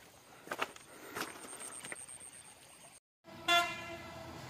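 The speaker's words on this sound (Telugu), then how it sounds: "ఒక దగ్గర హార్న్ కొడితే ఎంత వినిపిస్తుంది చూడు, కొండ మొత్తం వినిపిస్తుంది" A vehicle horn sounds in a hilly area near a waterfall and temple at Rapur, with a loud blast after a brief silence near the end. Its tones ring out clearly over faint background noise.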